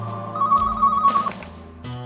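A telephone rings in a home, a steady electronic ringing tone near and clear for about a second, followed by lower background sounds and no speech.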